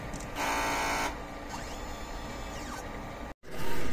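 Inkjet printer running a nozzle check, with steady mechanical whirring and the sliding sweeps of the print head, a brief silent gap, then a louder motor run at the end.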